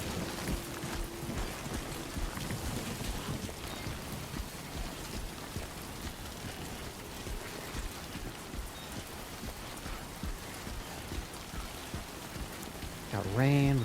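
Steady rain falls in the video game Death Stranding 2, a continuous dense hiss of drops on surfaces holding at an even level for the whole stretch, with a few brief tonal blips near the end.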